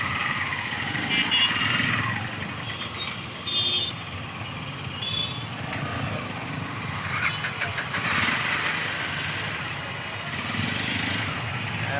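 A motorcycle rides through a Dhaka traffic jam, with a continuous mid-level hum of engines and surrounding vehicles, a few faint horn toots, and occasional talking nearby.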